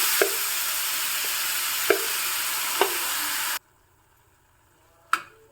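Hot oil tempering sizzles as finely chopped spinach is added, with a few light taps of a utensil, then sudden near-silence before one sharp clink at the end.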